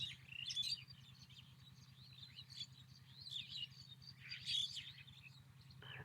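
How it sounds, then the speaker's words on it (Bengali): Small birds chirp and twitter in repeated bursts over a rural char island in Kurigram, fairly faint and distant, with a steady low pulsing hum underneath. "পাখিরা কিচিরমিচির করতেছে"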